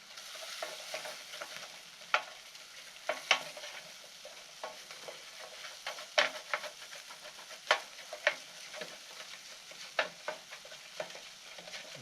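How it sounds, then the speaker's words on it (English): Sauce sizzles and crackles steadily in a hot pan at a winter camp, with occasional sharper pops and wooden-spoon scraping stirs over a continuous hiss. "It's sizzling."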